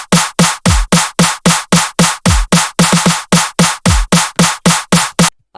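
Electronic drum pattern from an original production, loud and punchy, with steady sharp hits and deep kick booms, some figures falling into triplet groupings while others run straight, ending abruptly.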